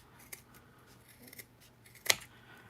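Fiskars shears snipping macrame cord for an owl keyring, a few faint small clicks then one sharp, crisp close-up cut, with no talk.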